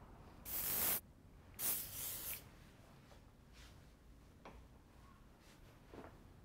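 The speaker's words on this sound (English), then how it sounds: "Finish it up with some hairspray." Hairspray misted over a finished bun hairstyle: two quiet hissing bursts, a short one and then a longer one, followed by faint handling clicks, with no talking.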